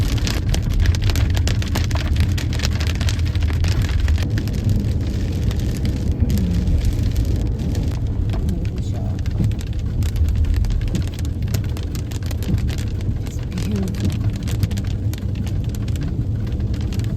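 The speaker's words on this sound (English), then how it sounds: "But it's raining so hard." Heavy rain pours down steadily in a forest, with a dense, constant hiss of drops on leaves and ground, loud and close throughout and no voices.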